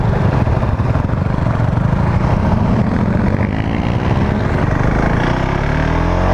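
Husqvarna 701 Vitpilen motorcycle, a light single-cylinder bike of 2019, riding at speed in a group, with a loud, steady engine drone and heavy wind rush that holds for the whole stretch.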